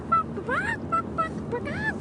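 A child imitates a hen with repeated rising, squawking clucks and short higher calls in an irregular series, moderately loud and close, over a faint background hiss.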